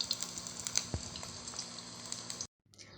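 Okoy fritters crackle and sizzle in hot oil with a steady, close frying hiss and a few sharp pops, cutting off abruptly near the end before a faint hiss returns.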